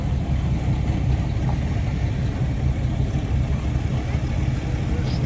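An old Maxwell antique car engine at an outdoor antique engine gathering, a continuous low rumbling idle mixed with steady background crowd and wind noise, moderately close and unchanging.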